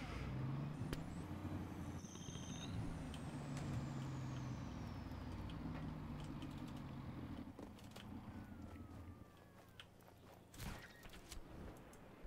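A dump truck driven in the video game Just Cause rumbles with a low engine drone, with occasional clanks and a sharp hiss near the end, heard at moderate level.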